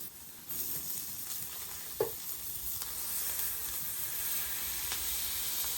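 Brisket smash burger patties sizzle on a griddle at around 500 to 575 degrees, a steady close frying hiss with a brief sharp scrape near the two-second mark.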